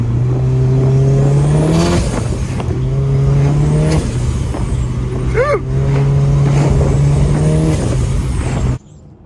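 A 4G63-powered AWD Eagle Talon Spyder drives past loud and close, its engine revving through repeated gear pulls with rising pitch and brief lifts between shifts, a turbo flutter midway, then cutting off abruptly near the end.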